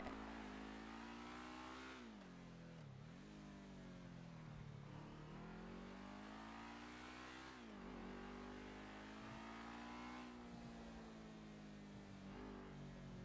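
Car engine in a GTA roleplay video game, a steady mid-pitched hum that dips with gear shifts or braking and then revs back up, continuous over about thirteen seconds and fairly quiet.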